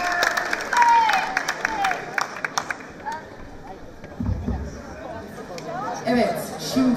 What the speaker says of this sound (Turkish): Değerli öğretmenimizi alkışlarla uğurluyoruz